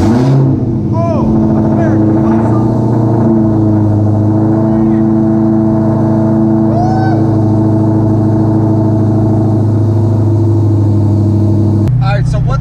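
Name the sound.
2017 Dodge Challenger Hellcat engine cold startup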